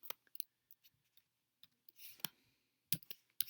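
Quiet, irregular keystrokes on a computer keyboard while someone writes code, with scattered single clicks and a few close clusters of taps, heard faint and alone.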